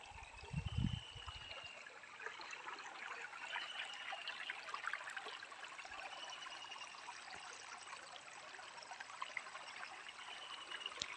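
A clean river flows steadily past a rural farm lot, its continuous trickling and burbling even and fairly soft throughout, with a brief low thump near the start.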